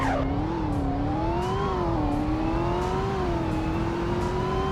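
An LS9-powered car launching with launch control in a racing video game, its engine revving hard and climbing steadily through the gears, loud and close, with no one speaking.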